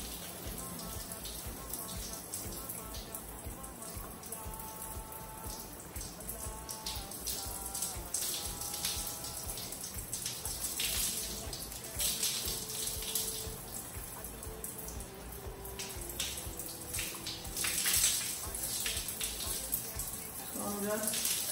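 Running water splashes through hair to rinse out shampoo, a steady close patter and trickle with irregular drips and spatters, continuous for about twenty seconds, with faint voice sounds underneath.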